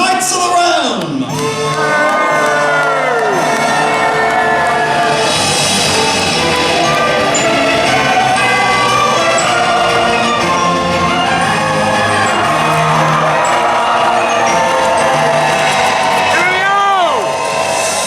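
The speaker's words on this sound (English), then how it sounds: "raise a cheer for all the knights of the realm" A large crowd at a medieval faire shouts, whoops and cheers for the knights, a loud sustained roar with rising individual yells throughout.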